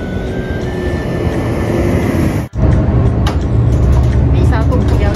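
Steady low rumble of a large city bus in Switzerland heard from inside on a cold morning, a continuous engine and road drone with a brief dropout midway, and voices talking over it.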